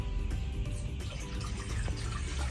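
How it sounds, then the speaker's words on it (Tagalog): Water runs steadily into a cooking pot at the start of a shrimp dish, a continuous close splashing and gurgling flow with no talk. "Una, ilagay natin ang tubig."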